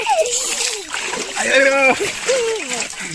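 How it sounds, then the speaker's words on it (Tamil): Water splashes while someone is bathed outdoors in a village, bursts of splashing mixed with children's and adults' voices talking and calling over it. "குளிப்பாட்டி விடுங்கடி மாமாவை."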